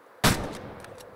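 A single loud rifle shot fired at an elk in the hunting video game Way of the Hunter, a sharp close crack followed by a fading echo and faint reverberations.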